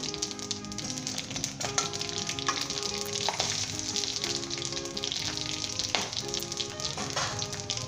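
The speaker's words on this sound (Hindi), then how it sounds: "मेथी दाना, राई दाना, ज़ीरा, गोल लाल मिर्च और 2 सब्ज़ मिर्चें, ये डाल देंगे।" Fenugreek seeds, mustard seeds, cumin, round dried red chillies and two green chillies sizzle steadily in hot oil for a kadhi tempering, a dense continuous crackle with scattered pops and a few stirring clinks throughout, no voices.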